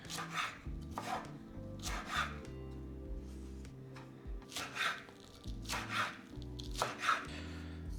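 A knife cuts long, thin, angled slices for takeout-style fried noodles, producing a steady run of crisp, rhythmic strokes against a board, close by, over quiet background music.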